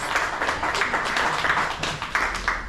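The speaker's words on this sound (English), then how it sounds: "Everly, one more applause." An audience at the Poe in Lowell 2025 performance event gives a short round of applause, with individual claps audible in a close, lively patter that rises and falls without any talking.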